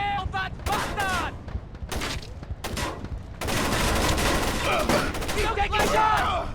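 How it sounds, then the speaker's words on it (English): Gunfire in the stealth action game Splinter Cell: Chaos Theory: loud, dense bursts of shots and booming blasts come in clusters, with brief gaps, then a sustained barrage under shouting voices. "He's taking shots!"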